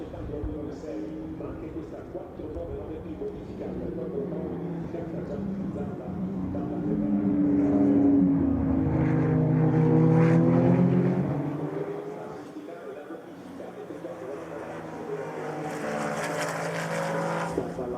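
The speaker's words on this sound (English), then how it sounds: "I'm going to turn my microphone off so that you can enjoy the engine noise." A Ferrari 499P Modificata hypercar runs on track at the Ferrari Finali Mondiali, its engine swelling louder as it approaches, peaking mid-way, then fading as it passes, with another car building toward the end.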